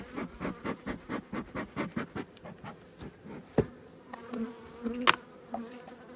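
Honey bees buzz around an opened hive during a late-winter inspection, a dense, steady drone with rhythmic pulsing swells early on and a few sharper knocks and clicks later, near and moderately loud, with no talking.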